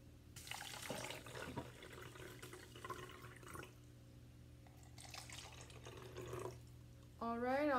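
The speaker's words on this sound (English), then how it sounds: "we're gonna fill each glass with water" Tap water runs and pours into drinking glasses with a steady, close splashing flow that fades and returns in bursts, ending in a rising gurgle as a glass fills; a person talks faintly in places.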